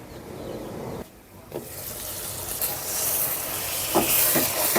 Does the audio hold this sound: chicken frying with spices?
yes